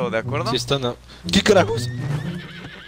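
A horse in the Red Dead video game neighs loudly and close up, with a shaky whinny that rises and falls. Spanish-speaking voices talk over and around it.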